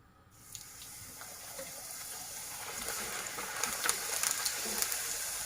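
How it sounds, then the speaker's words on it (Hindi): Puris deep frying in hot oil over a medium flame, giving a steady sizzling hiss that grows busier with scattered crackles and pops. No talking is heard. "अभी हमारा ऑयल गर्म हो चुका है, इसमें मैं पूरी फ्राई करूंगी।"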